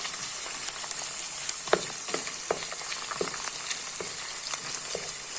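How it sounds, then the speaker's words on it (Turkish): A spoonful of tomato paste sautés with spinach in a hot pan, giving a constant bright sizzle with soft spoon knocks scattered through it, with no one talking. "Evet arkadaşlar bir kaşık da salça attım. güzelce kavuralım."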